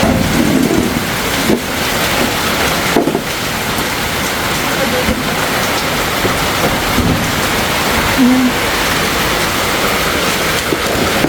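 Heavy typhoon rain drums steadily on a house roof during a storm in Mindoro, loud and unbroken, with occasional thunder cracks and low rumbles and bits of talk underneath.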